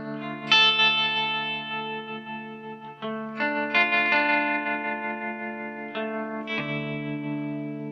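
Electric guitar notes plucked one at a time through a Walrus Fundamental random tremolo pedal, each swelling and fading through a wobbling, uneven pulsing effect with reverb, no voices.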